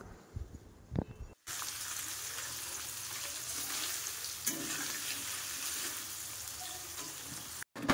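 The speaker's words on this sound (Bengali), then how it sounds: "তো দেখো হালকা করে আমি ভেজে নিচ্ছি পনিরগুলো।" Paneer pieces fry in hot oil with a little salt, a steady close sizzle running continuously after a few soft handling knocks at the start, ending with a brief cut.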